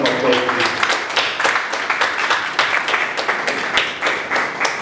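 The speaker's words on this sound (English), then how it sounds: "It's a more resounding round of applause." Audience applause at a power-sector dialogue event, scattered uneven clapping with distinct individual claps in a loose rhythm, fairly close and moderately loud.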